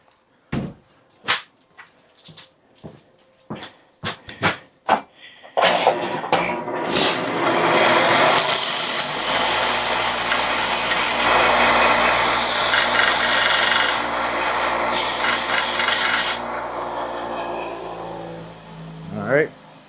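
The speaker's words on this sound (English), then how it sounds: "Spin this around to the sander." Power sander working a part during a Traxxas XRT RC truck rebuild, a few sharp taps and clicks first, then a loud continuous grinding whir that holds steady before cutting off near the end.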